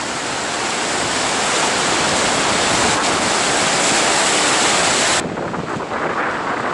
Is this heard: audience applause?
no